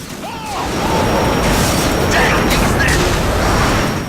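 Gunfire and heavy combat noise in the video game Metal Gear Solid 2 form a loud, dense, continuous wash of bursts and mechanical clatter lasting throughout, with game voices mixed in.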